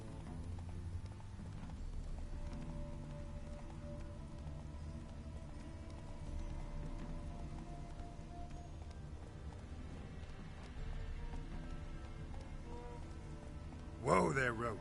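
Steady clip-clop of galloping horse hooves in The Witcher 3 runs throughout beneath a continuous music bed, with a louder burst near the end.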